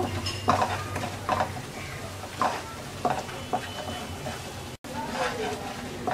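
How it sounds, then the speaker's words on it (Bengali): Mustard paste with turmeric fries in a pan, giving a steady close sizzle broken by scraping stirs and clinks of a utensil against the pan, with a person talking over the cooking. "সরিষা বাটাটাকে আমরা 1 মিনিটের মতো ভেজে নেব।"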